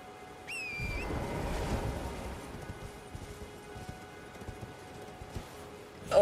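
Horse hooves in the video game Elden Ring clop along in a steady run of soft thuds over a rushing, wind-like background, preceded by a brief high whistling tone.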